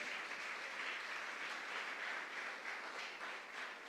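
Applause from a church congregation during a sermon, a steady dense wash of many hands clapping that holds evenly from start to finish with no voices over it.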